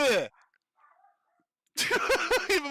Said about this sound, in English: Even my dogs are screaming.